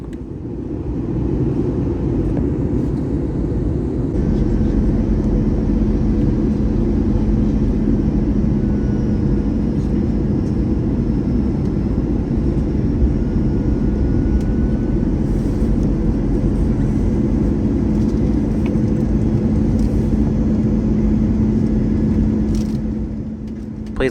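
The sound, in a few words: Delta airliner jet engines spooling back during descent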